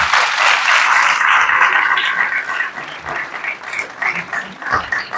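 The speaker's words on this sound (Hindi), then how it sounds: "केवल एक बार इन बच्चों के लिए भी तालियां" Loud, dense applause from an audience for school children after a model school drama play in Bhopal, steady for several seconds before thinning into scattered claps.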